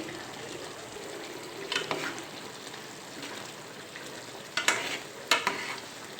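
Fish pieces frying in a pan for a spiced Telugu fish curry, with a steady low sizzle broken by a few louder scraping stirs and clatters as the pieces are turned over, close and without talk.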